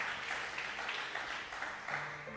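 Dense, continuous applause from a church congregation, steady and moderately loud throughout.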